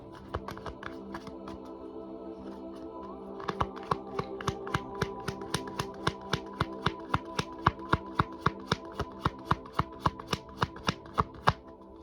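A seed and sickle card deck is shuffled by hand close to the microphone, producing a long series of crisp, evenly spaced riffling snaps that grow louder over about twelve seconds, with no talking.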